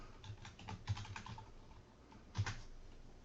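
Rapid keystrokes on a computer keyboard as a command is typed in CAD software, a quick cluster of clicks followed by a short pause and a final firmer tap, close and moderately quiet with no talking.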